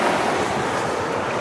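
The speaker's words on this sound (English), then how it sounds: "it's just a little bit windy" Strong wind buffeting the microphone at the seaside, a dense continuous roar blended with surf, loud and close with no voices.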